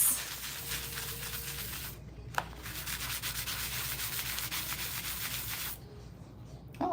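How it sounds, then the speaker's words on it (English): An ornament being sanded by hand, a steady close rasping rub in rapid strokes, pausing briefly with a single tap, then resuming before stopping near the end. "I'm gonna go ahead and sand this"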